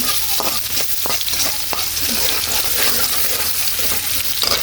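Chopped onion frying loudly in hot oil in a pan, a continuous close sizzle with occasional stirring knocks.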